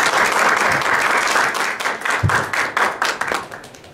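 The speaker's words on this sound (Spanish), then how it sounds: "recibamos con un aplauso al maestro Emanuel Cárdenas" Close, loud applause greets a speaker at an academic colloquium, a full burst of many hands clapping that holds strong, then thins into scattered claps as it tapers off.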